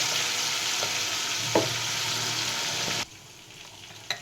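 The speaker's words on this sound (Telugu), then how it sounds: "మనం మిక్సీకి వేసుకున్న పచ్చిమిరపకాయల పేస్ట్ ఇదే ఆయిల్లో ఫ్రై చేసుకోవాలి జాగ్రత్త చిట్లుతో ఉంటుంది" Green chili paste frying in hot oil for an amla and green chili pickle, a steady loud sizzle with a few sharp spatter pops, cutting off abruptly near the end to a quieter hiss.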